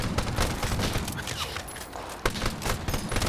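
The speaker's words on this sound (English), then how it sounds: "Hit him with that good old suppressive fire." Continuous gunfire sounds from a multiplayer shooter video game, with dense, rapid overlapping shots filling the whole stretch, loud and close.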